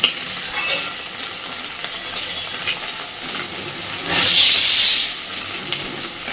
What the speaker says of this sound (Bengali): হালকা হাতে চিংড়ি মাছটা একটু ভেজে নেব খুব বেশি লাল করে ভাজবো না